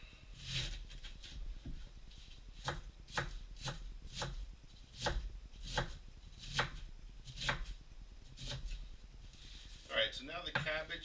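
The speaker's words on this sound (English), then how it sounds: "All right, we're going to cut this up." A knife chops cabbage on a cutting board in a kitchen, a dozen or so sharp, evenly spaced strokes, close and clear, with a short scraping rustle at the end.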